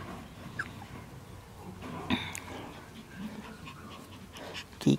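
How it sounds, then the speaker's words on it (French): A Shiba Inu puppy pants softly and rapidly close by, with faint whimpers and a person talking quietly nearby. "Oh, c'est un beau petit chien."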